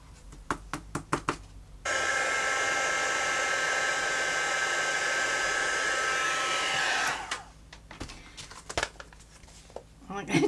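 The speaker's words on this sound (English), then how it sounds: "Now that I've got the embossing gun out" A heat embossing gun blows hot air over embossing powder on a craft project, a loud, steady roaring whoosh lasting about five seconds that cuts off abruptly, framed by light tapping and paper handling.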